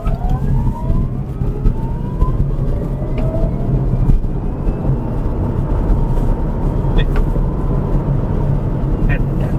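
A VinFast VF5 electric car pulls away from a standstill in eco mode, its faint rising motor whine climbing over a steady rumble of road and cabin noise while someone talks inside.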